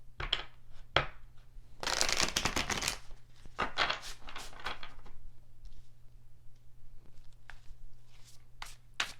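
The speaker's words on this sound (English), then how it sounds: "want to give these a quick shuffle." A deck of tarot cards being shuffled by hand, with a burst of dense riffling near the start followed by lighter, intermittent flicks and taps of the cards, close and fairly quiet.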